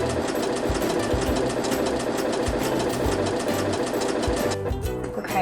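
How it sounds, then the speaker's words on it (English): A sewing machine stitches stretch fabric with a fast, even mechanical rattle of the needle, continuous and close. The motor shifts briefly near the end. "whenever you back stitch, it's just going to stitch right in place for you"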